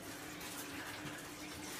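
Water running steadily into a bathtub, a continuous gushing fill that stays loud and even throughout with no talk over it.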